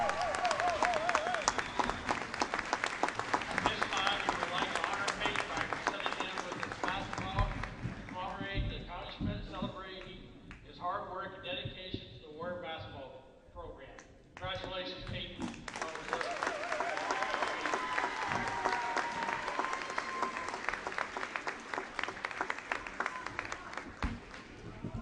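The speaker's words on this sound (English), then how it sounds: "So I'm gonna stand up and give a round of applause here." A high school basketball gym crowd applauds a player reaching his 1,000th career point, with steady loud clapping and cheering that briefly gives way to talk midway before the applause swells again.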